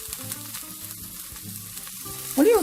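Butter added to a hot wok with garlic, ginger and scallion whites already frying in lobster oil, a close sizzle and crackle that swells louder at the end.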